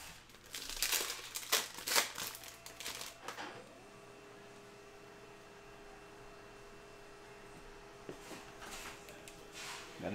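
A 2021 Mosaic baseball hobby pack of trading cards is torn open and handled, with bursts of crinkling foil and paper in the first few seconds, a quiet pause, then more rustling near the end.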